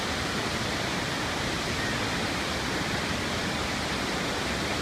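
Steady, loud roar of a waterfall on a Mount Hood trail in Oregon, heard up close as a continuous broadband wash of falling water with no breaks.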